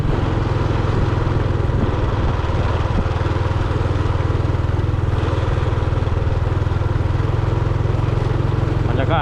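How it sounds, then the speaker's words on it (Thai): A villagers' farm tractor engine runs steadily and loudly near a waterfall outing in Thakhek, Khammouane, Laos, holding a constant throbbing drone throughout with faint voices in the background. "เป็นรถไถนาของพี่น้องชาวบ้านแถวนี้"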